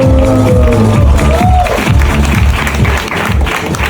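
An audience at a trans beauty pageant applauding, a dense steady clapping from a sizeable crowd with some cheering, loud and continuous, while a voice speaks over it.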